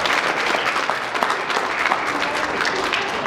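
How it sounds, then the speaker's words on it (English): Loud, dense applause from an audience at an opening ceremony in the Citadel Theatre: a sustained wash of many hands clapping, steady throughout with no pause. "Give her another round of applause as she comes."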